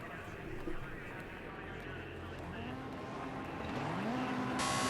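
Racing cars idle and rev together on the starting grid of an Xbox racing game, a steady dense engine drone building slightly toward the end, with a voice talking over it throughout.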